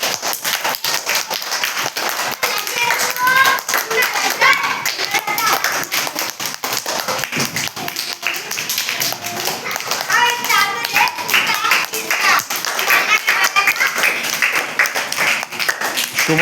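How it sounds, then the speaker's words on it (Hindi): Schoolchildren in an Urdu primary school classroom clap their hands in bursts of quick, uneven claps that rise and fall over several seconds, with children's voices and a teacher talking in between. "नाम से नहीं, सिर्फ तालियां बजाओ तुम"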